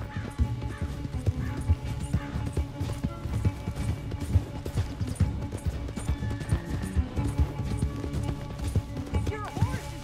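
Galloping horses in the Western game Red Dead Redemption 2, steady hoofbeats drumming along with occasional whinnies, while people talk excitedly over the ride.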